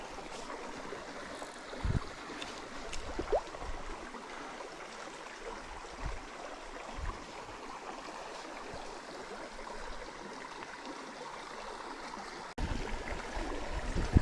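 A small mountain stream along the Blue Ridge Parkway flows in a steady, soft rushing wash of water, continuous and moderately near, with a few faint knocks and a brief louder disturbance near the end.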